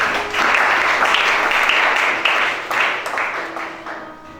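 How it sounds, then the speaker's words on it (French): A church congregation applauding during a worship service, a dense, loud wash of many hands clapping that tapers off toward the end. "Acclamez chacun."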